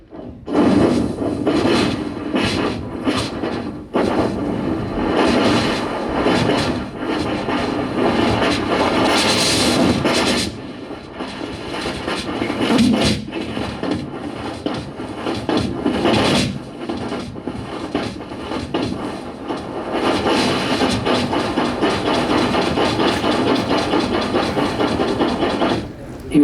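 A voice imitates a train crossing a barrage, with rhythmic clattering of wheels over rail gaps: loud, repeated bursts with brief pauses that sustain for over twenty seconds.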